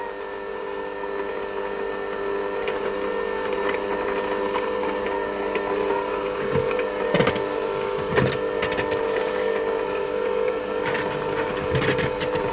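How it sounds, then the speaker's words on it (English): An electric stand mixer running at low speed, beating butter with icing sugar: a steady mechanical whir with a constant tonal hum, broken by a few light knocks and clunks from the bowl, close and unbroken, with no talking. "I'll start my mixer on a low speed"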